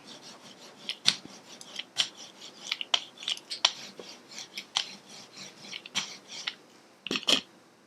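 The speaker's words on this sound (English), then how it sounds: "once again go over it with our brayer" An art brayer is rolled over a print laid on a stencil, giving repeated short raspy rubbing strokes in an uneven rhythm, close and fairly clear with no talking.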